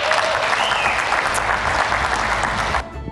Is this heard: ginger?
no